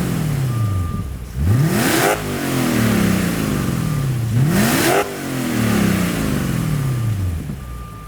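A 2006 Spyker C8 Spyder's engine revs hard twice, each blip rising sharply then falling back to a steady idle between, loud and close with no talk.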